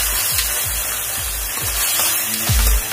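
Manchurian sauce made with tomato sauce and soy sauce fries in a pan, giving a loud, steady hiss overlaid with a regular series of low thuds and scrapes from stirring, ending in a heavier bump; no speech.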